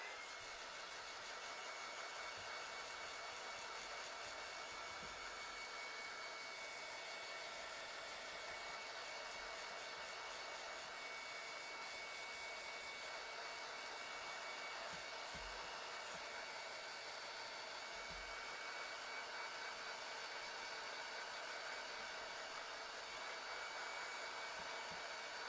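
A hair dryer blows on a craft project: a loud, steady, continuous whooshing drone that runs unbroken, close to the listener, with no talking.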